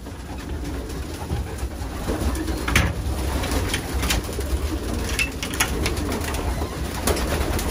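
Racing pigeons cooing in the hen section of a loft, soft repeated coos layered over a steady background hum, with occasional faint wing flutters and no speech.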